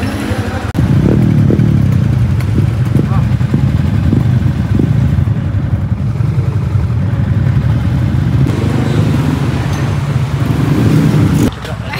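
Close, loud motorcycle engine heard from the rider's seat while moving, a steady mid-pitched drone with wind rumble and a few revving swells throughout.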